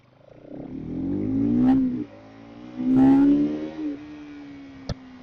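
A repaired motorcycle engine, no longer misfiring, revs up twice in smooth rising swells that drop back to a steady idle, heard close and clear with a single sharp click near the end.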